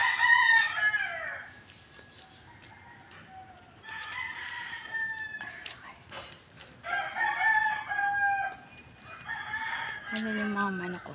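Several roosters crow in the morning in overlapping bursts, some near and some farther off, with brief clucks and small clatters between calls.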